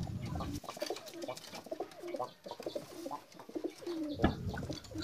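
Pigeons coo nearby in soft, throaty repeated calls, several birds overlapping, with some faint chirps in the background.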